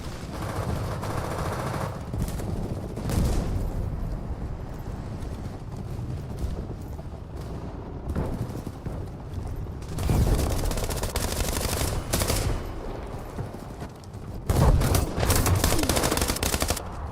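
Gunfire in War Thunder, a tank and infantry battle game: rapid bursts of loud, close automatic fire that come and go in clusters, with continuous rumbling battle noise between the bursts.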